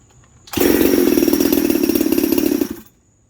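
A Husqvarna 372XP chainsaw engine starts and runs at a loud, steady high rev for about two seconds close by, then cuts off abruptly, with quiet background before and after.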